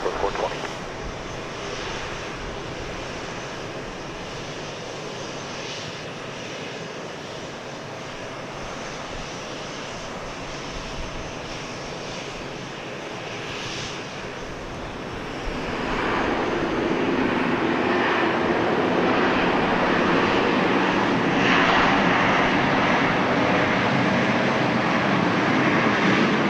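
A Southwest Airlines jet takes off from runway 13 right at Dallas Love Field, its engine roar steady from the start and swelling louder and broader partway through as thrust builds, with no voices over it.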